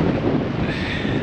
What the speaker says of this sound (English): It's cold and windy here too.